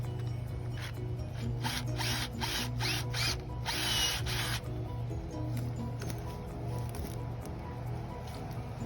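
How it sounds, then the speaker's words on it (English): A drill bores a small hole into the root flare at the base of an ash tree at a nature preserve, giving a close grinding whir with bursts of ratcheting chatter over a steady motor hum. "we drill a small hole into the base of the tree in root flares"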